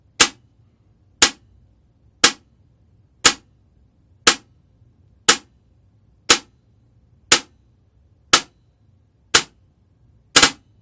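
Wolverine airsoft gun firing in a steady series of about ten sharp, loud single shots roughly one second apart, with a quick double shot at the end as the mechanism recycles.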